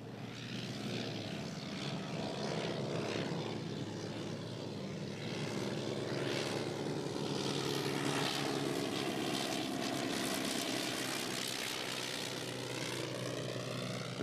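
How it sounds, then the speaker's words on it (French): A Blériot XI, a very old propeller monoplane, flies low over an airfield runway with a steady, continuous engine drone that holds at moderate loudness throughout, with no voices. "Le Blériot 11 est le plus vieil avion du monde et il vole très rarement, se contentant de survoler la piste de l'aérodrome."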